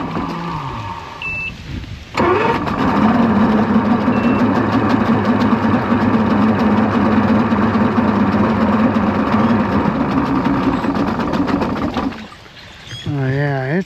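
A 1998 Evinrude 225hp outboard engine, under service for a suspected fault, runs with a loud, steady droning hum for about ten seconds before dropping away, with quieter running at the start and end.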